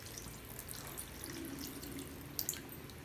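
Ground chili and coriander water poured into a clay pot for a village-style duck curry, a quiet steady trickle with a couple of small splashes near the end.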